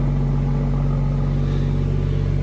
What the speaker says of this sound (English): So you can hear that engine purring over.